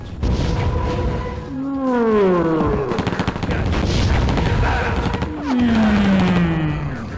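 A voice from the Rise of the Triad video game's Hand of God weapon, loud wailing, swooping vocal cries imitating a chaotic rampage, overlaid with rapid gunfire-like crackle and booming effects in two long bursts.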